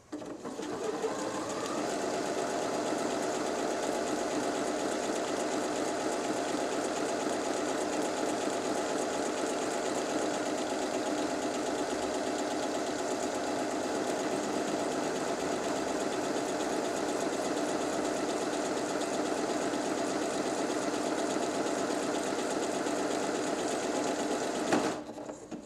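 A Janome XL601-series sewing machine sews a buttonhole in one continuous, even whirring run lasting over twenty seconds. It stays close and steady, then ends with a small click.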